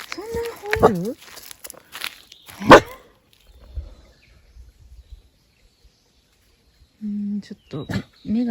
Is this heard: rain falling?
no